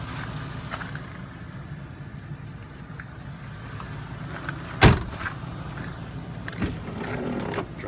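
Power windows, door locks and mirrors on a 2005 Ford F350 truck whir steadily under a low idle, broken by a sharp clunk midway and more knocks near the end.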